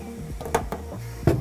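A Creality K1C 3D printer runs with its lid closed, giving muffled mechanical whirring with short motor sweeps and a few sharper clicks and knocks over a low hum.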